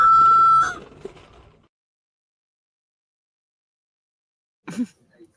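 A rooster crowing once, loud and close, with a long sustained note that breaks off abruptly, then a faint fading tail, silence, and a brief cluck-like sound near the end.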